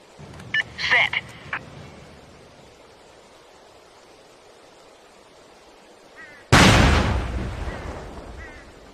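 A fuel dump blows up in a military video game: one sudden, loud explosion bursts in near the end after a quiet stretch and then rumbles and decays, with brief earlier gunfire-like cracks.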